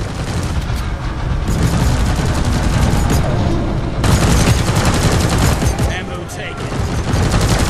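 In the video game Deep Rock Galactic, a sentry gun fires continuous rapid bursts, loud and dense throughout, with a short break near the middle and other game sounds and voices mixed in.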